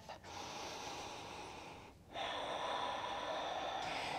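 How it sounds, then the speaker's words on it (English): Deep breath in and out during a morning vinyasa yoga flow, a long audible inhale followed after a short pause by a fuller exhale, close and breathy with no talk. "Take a deep breath in and a deep breath out."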